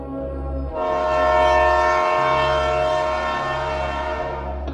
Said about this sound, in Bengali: হঠাৎ সে শুনতে পেল রেলের হুইসেলের শব্দ।